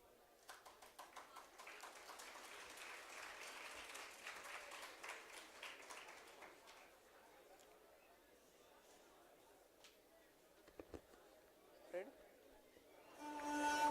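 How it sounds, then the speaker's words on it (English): Audience applause for a student dance performance at a nursing teachers' event, dense clapping filling the first seven seconds, then thinning to scattered claps and room noise with a few louder bursts near the end. "Please make a huge round of applause for the dance performance"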